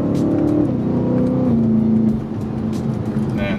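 A BMW E92 M3 engine revs up and falls through a downshift, loud and close, its note stepping down in pitch, with faint road noise beneath.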